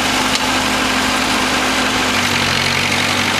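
Tractor engine running steadily in second gear with an even, close mechanical hum and rumble, no talk over it.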